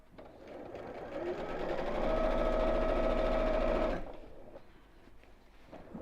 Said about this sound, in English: Just keep sewing all the way around.